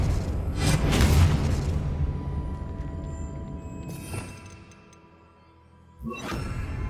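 Expelliarmus disarming spell cast in Hogwarts Legacy, a booming magical burst with a whooshing swell, fading over several seconds before a second sharp burst near the end.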